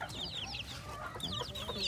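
Chicks and hens in a coop, high peeping chirps and soft clucks overlapping in quick bursts, close and moderately quiet.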